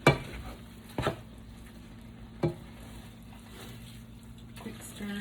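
Ground meat fries in a pan at home, with a soft background sizzle and a few sharp scrapes and clanks of a utensil stirring it, spaced a second or so apart, close and fairly quiet.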